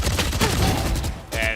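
Gunfire from a competitive shooter video game match, a headshot taken through smoke, heard as a dense burst of shots over busy game noise with brief quieter gap near the end.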